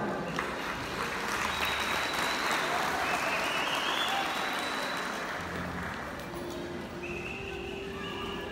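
Loud, sustained applause from the audience at a secondary school closing ceremony, welcoming the graduating students, with the steady dense clatter continuing throughout and easing slightly near the end.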